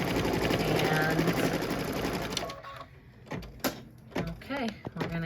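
A home embroidery machine stitches out a Kimberbell Christmas tag, a steady dense mechanical whir running loud for about two and a half seconds before it stops, followed by scattered handling clicks and a voice talking.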